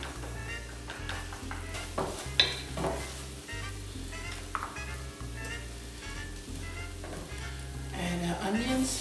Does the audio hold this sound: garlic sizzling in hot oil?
yes